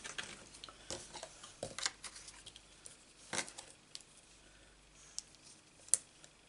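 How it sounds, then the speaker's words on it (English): Scissors snipping around paper in a card-making craft, with scattered quiet clicks and cuts spread irregularly, faint and close with no talk. "Just cut around this roughly."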